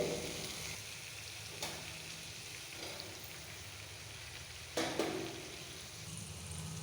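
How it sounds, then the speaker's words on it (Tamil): Soft steady sizzling of tomatoes sautéing in oil, with a few clinks of a spatula stirring the pan. "தக்காளியில் உள்ள ஈரப்பதம் போய் இந்த அளவு வதங்கி வரும்போது"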